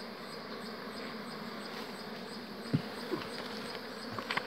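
Bees from a wild honey hive full of comb hum in a steady, close drone that runs throughout, with a few brief knocks and rustles partway through.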